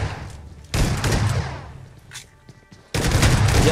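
Bursts of rapid gunfire in a competitive esports shooter scrim, with loud dense volleys separated by a quieter stretch of scattered shots and fading echoes.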